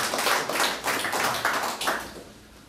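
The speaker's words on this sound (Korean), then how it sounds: "박수 부탁드리겠습니다." A crowd at a political press conference in South Korea claps in a short, rhythmic burst of applause, with the claps falling into a regular beat for a couple of seconds before fading.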